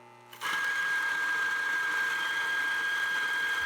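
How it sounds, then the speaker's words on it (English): A single-dose espresso grinder, one of the Niche Zero, DF64 or Eureka Oro Mignon, starts abruptly and runs as a steady, close, high-pitched motor whine with a grinding rasp, heard alone. "In my opinion, this grinder has the most pleasing sound of the 3 when grinding."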